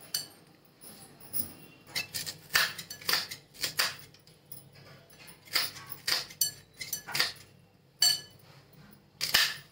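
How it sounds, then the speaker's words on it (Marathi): A knife chops green chillies for an amaranth flour chilla, giving sharp, clicky taps on a board in short irregular bursts at close range. "आता याच्यामध्ये मिरच्या कट करून टाकते."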